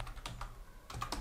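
Quick keystrokes on a computer keyboard while entering a command into Windows PowerShell, a few close, light taps in two short clusters separated by a brief pause.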